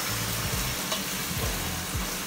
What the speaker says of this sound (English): we're mixing in with the olive oil